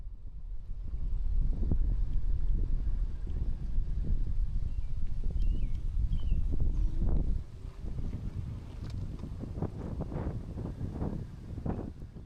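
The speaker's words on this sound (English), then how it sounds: "wind is really blowing hard right now" Strong wind buffets the microphone at the Presque Isle pier on the lakeshore, a heavy rumbling roar for the first seven seconds that then drops to gustier, lighter bursts and rustles.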